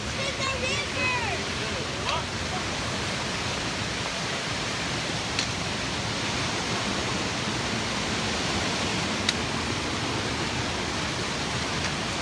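River water flows in a continuous broadband rush close by on a hike, steady and loud throughout, with a brief faint voice near the start.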